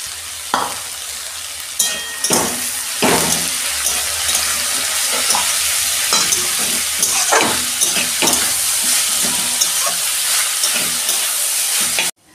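Chopped onion and green chillies frying in a pan without salt, lightly sautéed for egg chow mein: a steady loud sizzle with repeated scraping stirs of a utensil against the pan, close up.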